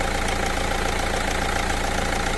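A Renault Scenic diesel engine idles steadily up close, a continuous rumbling drone with an even knocking clatter throughout, no voices.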